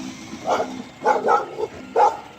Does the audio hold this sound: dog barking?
yes